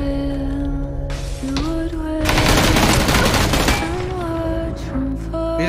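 Burst of automatic gunfire in the PUBG video game, a dense loud volley lasting a couple of seconds amid game sounds and music, with a brief spoken word.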